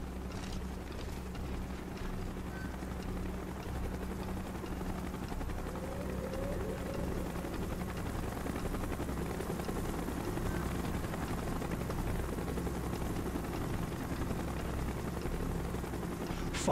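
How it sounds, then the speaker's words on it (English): A helicopter arrives in the Call of Duty Black Ops video game, its steady low rotor thrum sustained and fairly distant beneath faint background game noise. "Chopper's inbound!"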